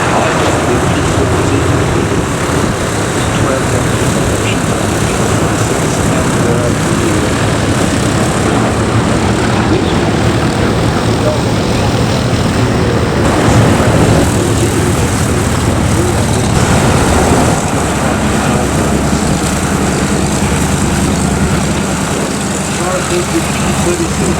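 A Curtiss P-40 propeller fighter with a big V12 engine flying at the Duxford Flying Legends air show, a loud continuous engine roar that stays steady throughout, with someone talking over it.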